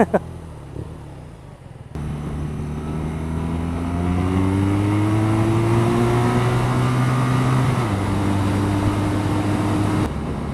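A 2014 BMW R nineT motorcycle engine revs up hard under throttle, its rising harmonic drone climbing and holding loud for several seconds before the pitch drops back near the end, with a voice briefly audible at the start.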